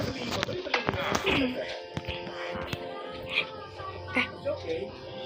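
A cat in the Craftsman survival game meows after a fall, brief cries mixed with thumps and clicks while a person talks over it.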